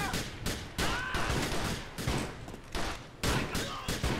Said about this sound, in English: That was an automatic pistol, I think.